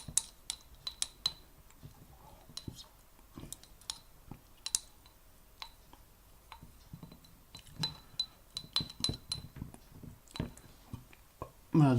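PVA glue and paint stirred together in a container for rock spire terrain, with scattered light clicks and scrapes of the tool against the sides, quiet and irregular.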